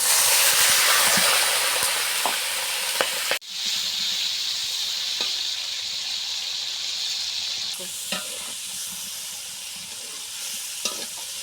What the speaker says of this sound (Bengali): এখন সবগুলো কাঁঠাল উঠিয়ে নিব একটু হালকা ভেজে নিই